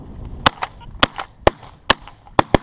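Shotgun shots fired while duck hunting, about six sharp, loud reports spaced unevenly over a few seconds, each a crisp crack with a short decay, with quieter background noise between them.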